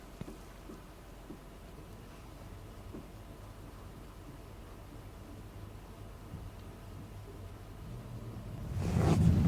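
An air conditioner fan aboard a Formula 40 Performance Cruiser boat kicks on near the end, rising from a quiet low hum into a louder steady rushing whir.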